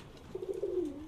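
Giribaz high-flying pigeons coo nearby, one steady low coo swelling and trailing off over about a second, with no voices present.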